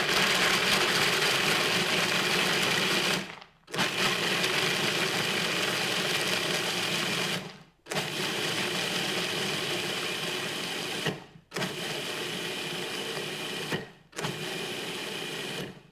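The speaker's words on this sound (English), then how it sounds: "we're going to use the pulsing function and just pulse until it's kind of a meal" A food processor pulses nuts into a powdery meal for plant-based parmesan, its loud steady whirring motor running in long runs cut by four short stops, with no talk.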